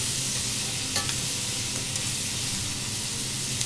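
Italian sausage, squash and zucchini sizzle steadily in butter in a pan, with a constant hissing fry and light stirring scrapes close by and no talk.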